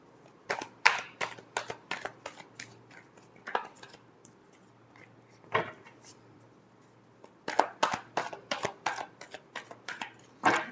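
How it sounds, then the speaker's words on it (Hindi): A deck of tarot cards is shuffled in quick bursts of crisp, papery riffles and taps, close and quiet, with short pauses between rounds. "Last shuffle."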